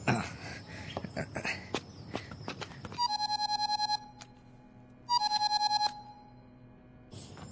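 A phone rings in repeated bursts of electronic trills, two separate ring sequences, after a stretch of busy clattering noise.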